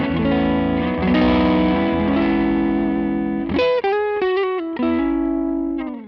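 Electric guitar through a Matchless Laurel Canyon 1x12 combo amp with a touch of reverb and delay, loud sustained chords giving way to quick, choppy single notes before a final ringing chord.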